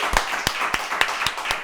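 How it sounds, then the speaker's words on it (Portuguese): An audience at a talk event claps, a sparse, loud run of sharp individual hand claps spaced roughly evenly over a couple of seconds. "Uma salva de palmas para todos."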